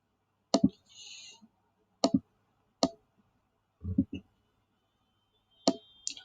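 A computer mouse clicks several times at uneven intervals, each one a crisp, close double tick, separated by near silence with a few brief soft interface sounds in the gaps.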